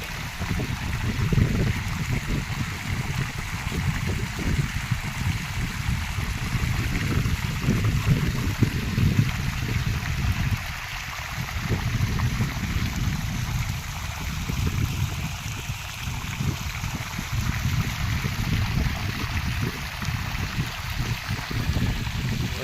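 Irrigation water flows steadily into a groundnut field, a continuous rushing, gurgling wash that holds at an even level for over twenty seconds with no talking.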